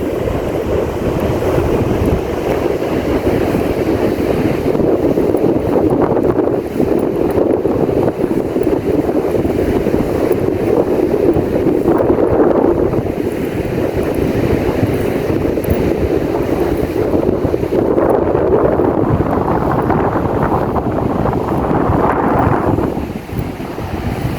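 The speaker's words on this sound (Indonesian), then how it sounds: "Ombaknya besar" Large ocean waves roll and crash steadily close by, a continuous loud wash of surf mixed with heavy wind buffeting, with no voices.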